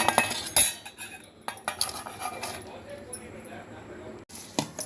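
Eggs, chopped onion and a spoon of oil being stirred in a bowl, with irregular scraping and clinking of a utensil against the bowl, close and fairly loud, some pauses between strokes.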